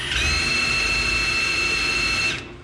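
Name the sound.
drilling with a 90-degree drill adapter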